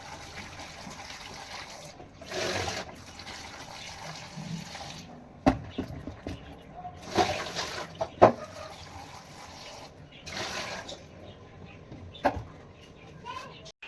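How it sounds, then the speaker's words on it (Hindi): Okra is rinsed under water in a home kitchen, with splashing and running water in several bursts and occasional clinks, under faint background voices. "मैंने भिंडी को अच्छी तरह वॉश कर लिया है 2-3 बार पानी से।"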